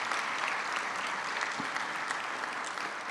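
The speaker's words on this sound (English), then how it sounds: "please give a round of applause for Dr. Rose's legacy." Steady, sustained audience applause fills a hall at a community college student leadership summit in New Jersey, a dense, even clapping throughout with no talk over it.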